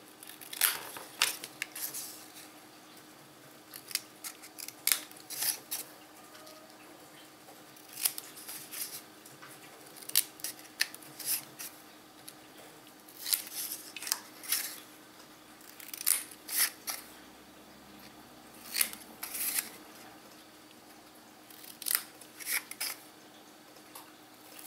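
Scissors snip through paper while an album structure is being made, with short crisp cuts coming in small clusters at a steady pace, close and fairly quiet, and no talking.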